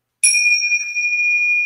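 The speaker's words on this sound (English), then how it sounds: "Ring those bells." A small bell rung once at the start of a children's yoga session, a bright clear ding that rings on and slowly sustains alone, with no voices.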